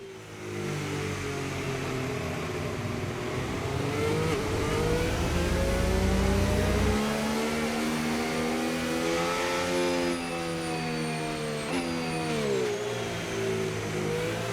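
Several F1 race cars lap the Qatar track in the F1 25 video game, their engines droning loud and close as they rev, with pitch sweeping up and down through gear changes and cars passing.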